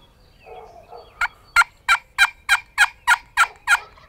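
A wild turkey gobbles in a fast rattling series of about nine sharp pulses, loud and fairly close, with no other sound around it.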